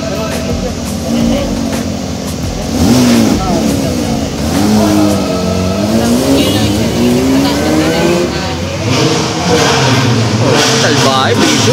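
A Porsche GT3 RS engine revs hard and close, its pitch sweeping up and down through several rising and falling pulls, with people talking over the engine noise.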